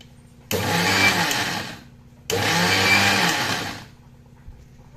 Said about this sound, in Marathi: आणि मिक्सरमध्ये बारीक वाटून घेऊ